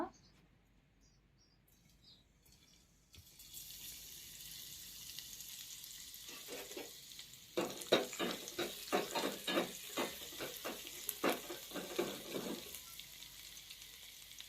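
Garlic drops into hot oil during village cooking, giving a steady sizzle that turns into louder, rhythmic frying and stirring scrapes midway, with faint background noise.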